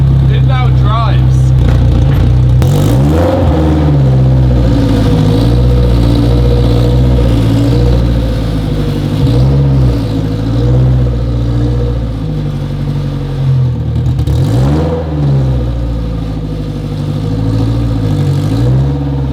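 A modified all-wheel-drive Honda Civic engine runs steadily nearby, its loud mid-low drone swelling in a couple of revs.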